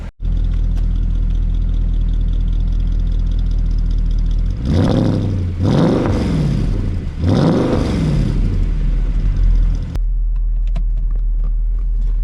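A 2008 Mercedes-Benz ML63 AMG idles with a deep, loud rumble, then revs hard three times in rising and falling bursts before settling back to a low idle.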